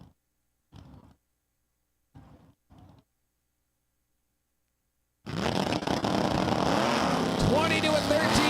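At Empire Dragway, a Corvette and a Ford Mustang launch down the drag strip. A few short bursts of talk come first, then the engines erupt into a sudden loud, sustained roar that stays close and harsh to the end.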